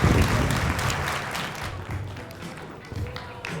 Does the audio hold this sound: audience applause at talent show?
yes